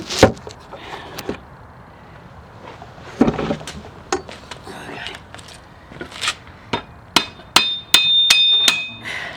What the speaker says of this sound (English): beat on that screwdriver with the hammer, and it'll knock that axle out